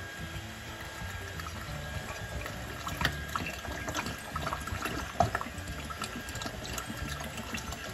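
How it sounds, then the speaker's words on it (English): Water pours and trickles steadily into a fermenter of honey for making mead, with soft splashing and gurgling at a quiet, close level. "Now I'm gonna add the water."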